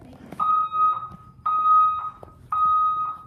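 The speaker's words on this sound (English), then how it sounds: "It's a false alarm." A school fire alarm sounds in three repeating bursts, each a loud, harsh steady tone lasting about half a second to a second with short gaps between, ringing close with no talk over it.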